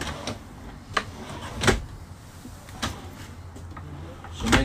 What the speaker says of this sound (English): Nice drawers, they're all soft close.